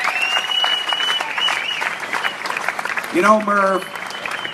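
Audience applause at an Iowa Auctioneers Association bid calling contest for Merv Hillpiper's birthday, steady crowd clapping throughout, with a voice speaking over it near the end.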